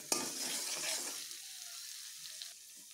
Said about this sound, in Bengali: বেশ ভালো করে আমি মশলাটিকে কষিয়ে নিচ্ছি।